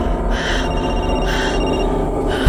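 A phone ringing in the horror game Night Book, loud repeated electronic ring bursts in a steady on-off pattern over a low background hum.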